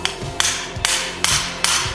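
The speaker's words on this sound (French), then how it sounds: "Puis je vais venir prendre mon marteau de brasse. Puis je vais venir insérer mon joint à rotule" A brass hammer taps a ball joint into a B-PWR Axys A-arm, giving five sharp metallic strikes at an even rhythm, close and loud.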